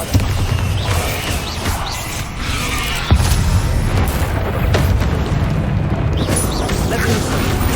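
Bombarda spell blasts in the Hogwarts Legacy video game: dull booms and crackling bursts over a rumbling, busy backdrop, with one sharp impact partway through.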